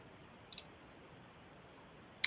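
Computer mouse clicks from someone working in an organization admin web page: a quick double click and then a single click near the end, faint and close over a quiet hiss, no talking.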